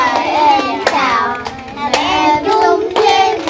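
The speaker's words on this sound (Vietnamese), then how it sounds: "Vỗ tay luôn" Several sharp, close hand claps ring out at irregular intervals over a child's sing-song voice in a rural home in the fields, with the claps standing out clearly above the speech.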